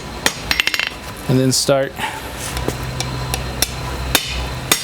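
Hammer blows on 1/4 by 1 inch steel bar stock during forging, with a quick burst of ringing strikes early on, then scattered single sharp hits over a steady background hum; a voice speaks briefly in the middle.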